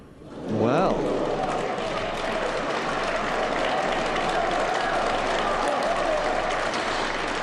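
Crowd at a China Open 2016 snooker match between Ronnie O'Sullivan and James Wattana breaking into sustained, dense applause that swells quickly and holds steady, with a commentator's voice underneath.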